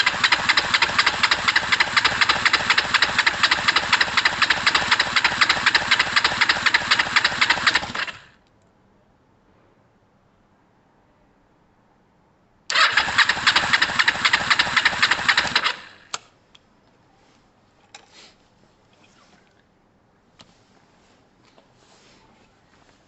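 A Kawasaki ER5 motorcycle engine cranks over with the throttle wide open during a compression test, with one spark plug back in but unsparked. Two rapid, loud, steady bursts of cranking play alone, with a pause between them.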